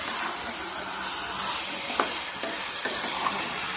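Chicken coated in ginger, garlic, salt and turmeric sautés in a pan with whole onions and chillies, a bright hissing sizzle broken by several sharp spatula scrapes and taps, close with no speech.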